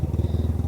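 A motorcycle engine throbs close by in a brief, steady pulsing burst, heard during a group bike ride.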